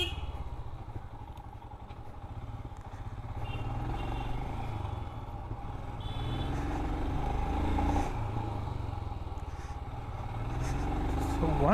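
Royal Enfield Himalayan Scram 411 motorcycle engine running steadily while riding in third or fourth gear, a continuous low throbbing drone with road and wind noise, the rider talking over it throughout.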